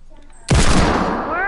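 A single loud hand cannon shot fired in a PS4 shooter game, an abrupt blast at close range that rings out with a long, slowly fading tail.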